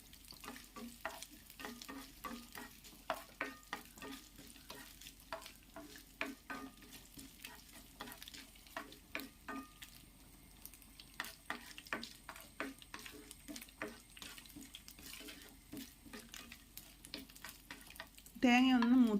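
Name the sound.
coconut pieces frying in hot coconut oil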